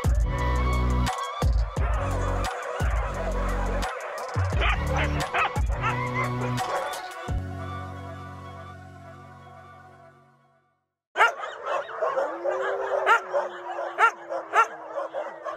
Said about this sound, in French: Désormais au Chenil, nous faisons la connaissance des chiens.